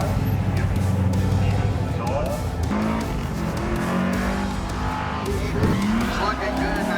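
Oldsmobile Cutlass race car at a hill climb event, its engine droning loud and steady throughout with tire squeal and skidding accents, while someone talks over it.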